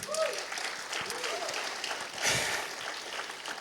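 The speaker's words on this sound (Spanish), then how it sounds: "Denle un aplauso a Pedro." Church congregation applauding steadily throughout, a dense wash of clapping with a speaker's voice audible over it near the start.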